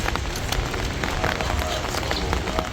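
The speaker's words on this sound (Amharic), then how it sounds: "ዝናብ እየዘነበ ነው እንደምታዩት፣ በዝናብ ነኝ" Steady rain pours during the monsoon season onto an umbrella outdoors, a continuous dense patter of drops close by with no pauses and no voices.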